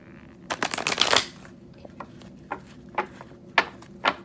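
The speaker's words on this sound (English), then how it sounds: "I do enjoy shuffling a deck." A deck of tarot cards being shuffled up close: a dense riffling burst early on, followed by several separate crisp card snaps spaced out.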